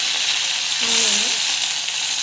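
Onion, ginger and green chili sauté in a pan after mustard seeds have popped, making a steady, close sizzle with a brief tonal squeak rising over it.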